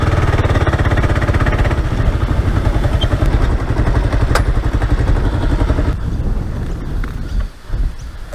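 Kawasaki KLR 650 motorcycle engine idling and rumbling close by with a steady thumping beat, wind buffeting the microphone, then the engine note drops away near the end.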